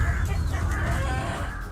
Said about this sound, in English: mother hen is foraging with her brood.